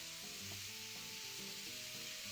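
Chicken fries in a pan with a steady hissing sizzle under background music that has a melody, and no talk.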